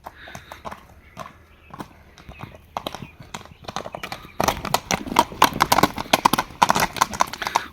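A three-year-old horse's hooves clip-clop in a quick, uneven rhythm, louder and busier in the second half, with a brief whinny. Faint voices are present beneath it.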